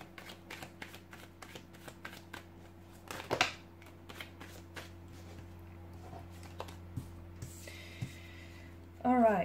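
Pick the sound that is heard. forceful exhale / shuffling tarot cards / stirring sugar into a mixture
shuffling tarot cards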